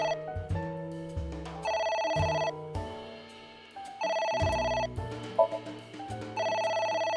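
A telephone rings in the video game AI: The Somnium Files, repeating bright electronic ring bursts in a steady rhythm against quiet game music.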